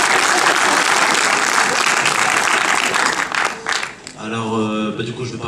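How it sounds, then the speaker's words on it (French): A dense, steady wave of applause from a cinema audience at a film premiere fills most of the stretch, then fades as a voice starts talking. "Vous pouvez applaudir."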